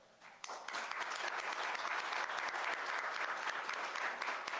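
Audience applause following a lecture in a criminal procedure code conference series, a dense steady clapping from a large crowd that swells in quickly and holds loud for several seconds with no talk over it.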